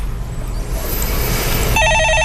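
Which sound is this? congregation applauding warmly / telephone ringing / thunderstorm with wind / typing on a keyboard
telephone ringing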